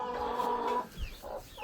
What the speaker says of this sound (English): there's my broody hen over there trying to hatch an egg